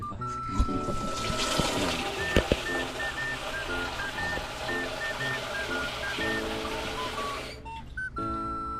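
Water runs steadily into a transparent container, a continuous rushing, trickling fill with a faint whistling tone, close by, ending abruptly near the finish with a brief pause and clatter.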